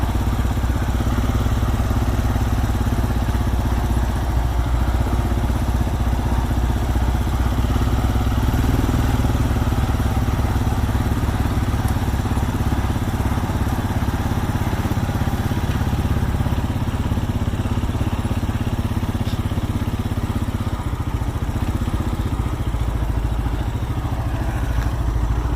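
A Minneapolis Moline tractor engine runs steadily and loudly nearby, a continuous low rumble with some mechanical clatter and no voices.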